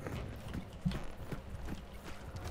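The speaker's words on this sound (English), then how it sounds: "Is there a horsey over here?" A horse in the game Hunt: Showdown clops along with rhythmic hoof beats, fairly quiet, with a brief snort partway through.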